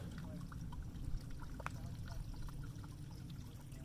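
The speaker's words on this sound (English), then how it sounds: "But that's definitely water." Soft, steady trickle of water from Hauser Creek on the Pacific Crest Trail, running over a low background rumble, faint and continuous, with no clear voices.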